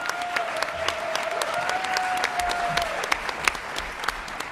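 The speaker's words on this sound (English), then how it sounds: "So give them a great round of applause." An audience applauds at a Mothers of the Movement event, steady dense clapping from a crowd, moderately loud and continuous throughout, with no one speaking over it.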